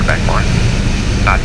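A light aircraft engine, throttled back to about 1,500 RPM during a flight lesson, drones steadily and loudly in the cabin, with voices talking over it.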